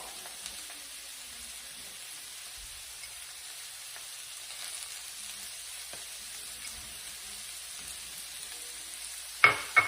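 Sweet potato hash sizzles faintly in a pan, a soft steady crackle with no talking, ending with a couple of sharper clatters from a utensil.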